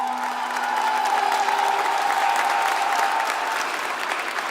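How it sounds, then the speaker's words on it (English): Audience at an airport centennial kickoff celebration applauds steadily for several mayors, a broad, sustained wash of clapping with faint voices underneath. "Give them a round of applause."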